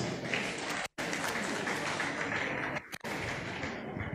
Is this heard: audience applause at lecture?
yes